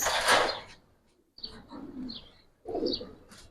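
Giribaz pigeons coo inside a loft in soft, repeated bursts separated by short pauses, close by, with a brief rustle at the start and no talking.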